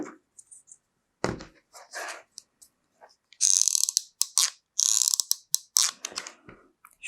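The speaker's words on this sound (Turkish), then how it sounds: "Silikon sıkıyorum." Silicone being squeezed from a tube onto a homemade joystick, heard as a run of close, sharp clicks, creaks and squirting hisses in uneven bursts with short pauses between.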